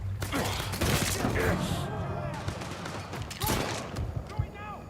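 Gunfire from Mafia III rattles in clustered bursts of shots, loud and close, with game voices talking over the shooting.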